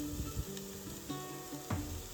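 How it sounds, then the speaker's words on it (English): A small bamboo spatula scrapes across the bottom of a cast iron pot over a continuous sizzle, making several short scraping and knocking strokes at close range. "I've got this little bamboo spatula type thing that does a really good job of scraping the bottom of this"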